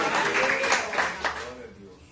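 A church congregation at Igreja de Nova Vida do Catete applauding, a dense burst of clapping that fades out after about a second and a half, with voices mixed in.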